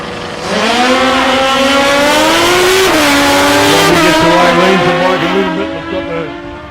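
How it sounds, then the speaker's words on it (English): A race car launches from the line at full throttle during a test session at South Coast Raceway, giving a loud, close engine roar that climbs steeply through the gears and then trails off as it pulls away. "Throttle twisted wide open"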